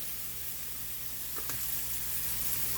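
Ramen noodles, shrimp and vegetables seasoned with soy sauce stir-fry in a pan, giving a steady, close hiss of sizzling oil with a brief stirring scrape midway.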